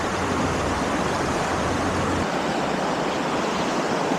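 Fast-flowing mountain river in the Appalachians, a steady, broad rushing roar of water close by, unbroken for the whole stretch with no voices.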